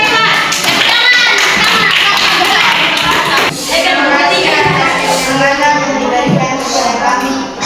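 Students in a classroom clap for a presenting group, a few seconds of brisk clapping from many hands close by with children's voices and chatter mixed in.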